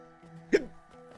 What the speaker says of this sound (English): Great, I have to deal with a hiccup.